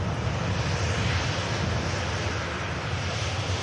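A fixed-wing airliner at Manchester Airport gives a steady, broad engine roar that fills the whole stretch at constant loudness, with no voices.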